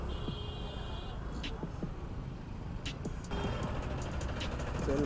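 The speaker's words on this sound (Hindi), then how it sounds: "भाई साहब बहुत ट्रैफिक है यार।" Road traffic around a helmet-mounted action camera on a motorcycle ride in busy Indian streets: a steady engine and road rumble with passing vehicles, a brief high beep near the middle, and someone talking over the noise.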